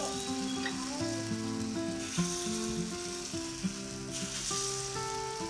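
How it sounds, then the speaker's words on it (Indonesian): Takoyaki batter hits a hot pan with a steady, close crackling sizzle that runs throughout, with soft background music underneath. "tuang adonan ke dalam wajan ini"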